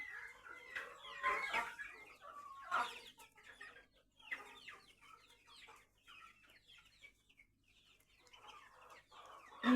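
A flock of about a hundred chicks and young hens and roosters on a farm clucks and cheeps nearby, with many overlapping short calls rising and falling in busy bursts and a few quieter gaps.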